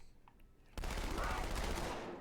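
SMG fire in the video game Halo 2 on Legendary difficulty. After a quiet start, a loud, sustained burst of rapid automatic gunfire begins abruptly and keeps going to the end.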